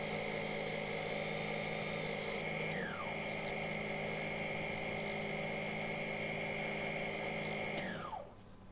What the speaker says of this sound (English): Gave it a quick sand up to 400 grit.